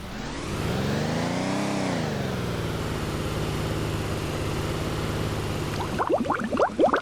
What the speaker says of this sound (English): we grab the rig and then we drive on out of here